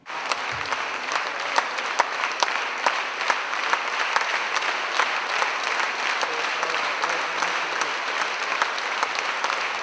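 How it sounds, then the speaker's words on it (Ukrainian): A concert audience at a Christmas concert gives a long ovation, dense, sustained applause filling the room with a steady wash of many hands clapping. "були винагороджені бурхливими оваціями"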